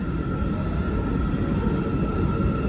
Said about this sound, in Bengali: ফার্স্ট টাইম আমি জার্নি করলাম বাই মেট্রো